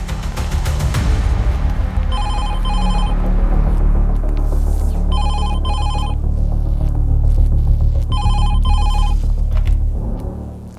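A telephone rings in three double-trill bursts, evenly spaced a few seconds apart, over a deep, loud rumbling background.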